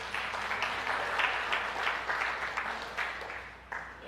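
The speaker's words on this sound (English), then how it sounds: "let's applaud that little boy" An audience applauds at a church service, a dense, steady patter of many hands clapping that rises and falls slightly over a few seconds.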